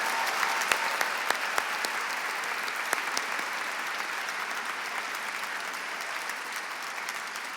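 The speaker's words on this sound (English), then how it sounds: "Please join me in giving them a well-deserved round of applause" A dinner audience at the Georgetown University Wall Street Alliance Dinner breaks into sustained applause, a dense wash of many hands clapping that stays steady and full for several seconds.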